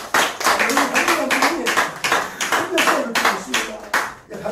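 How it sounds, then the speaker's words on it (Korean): Congregation in a Korean church service clapping enthusiastically, rapid uneven bursts of many hands in quick rhythmic waves, close and lively, with a voice speaking over parts of it. "뜨거운 박수 한번 주세요"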